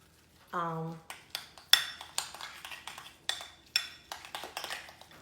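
Deviled egg yolk filling being stirred with mayonnaise in a bowl, a run of sharp clinks and taps of a utensil against the dish in an irregular rhythm, close and fairly loud, after a brief voice at the start.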